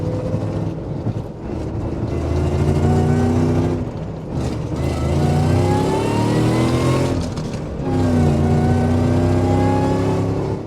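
A heavily modified Land Rover Defender engine revs hard while driving, a loud, continuous roar that rises and falls through the gears close by inside the cabin.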